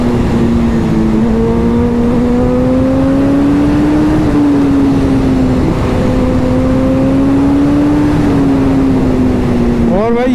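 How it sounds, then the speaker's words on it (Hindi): A motorbike ridden fast along an empty road, its engine holding a steady loud drone with slight pitch rises and falls throughout, close and continuous under heavy wind rush. "यहाँ भी ना फर्स्ट टाइम मैंने बाइक इतनी तेज चलाई है"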